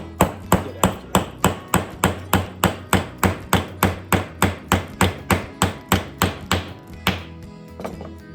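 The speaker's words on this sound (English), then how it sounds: "Take my ball peen hammer." Steady, evenly spaced ball peen hammer blows, about twenty-two sharp metallic strikes in a row, loud and close, stopping near the end with a faint clink.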